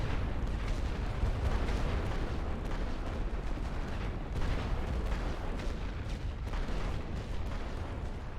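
Artillery barrage in The Great War Western Front, a dense, continuous rumble of overlapping booms and blasts, loud and sustained, with distant thuds blending into a constant roar.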